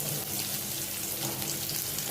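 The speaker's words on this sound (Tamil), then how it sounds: "கடுகு போட்டுக்கலாம். கருவேப்பிலை ஆனியன் கொஞ்சம் ஆட் பண்ணுறேன்." Mustard seeds, curry leaves and onion frying in hot oil give a dense, steady sizzle with a few faint crackles, close and fairly quiet, lasting about two seconds with no voices.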